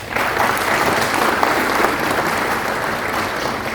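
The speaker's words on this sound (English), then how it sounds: "Please give YB a round of applause." Sustained applause from an audience at a business chamber town hall session, a dense, loud wash of clapping that holds steady for a few seconds before tapering slightly.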